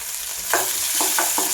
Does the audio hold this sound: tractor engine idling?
no